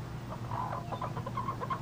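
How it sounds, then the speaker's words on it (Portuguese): Two hens on a small homestead give soft, repeated clucks, a scattered string of short calls over a low steady background hum, moderately distant. "os ovos são de Shaw e Rockoff, minhas duas galinhas ali."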